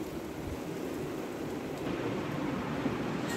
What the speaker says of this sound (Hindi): अभी जो है ना ये देखें एकदम से ना हवा चलना शुरू हुई है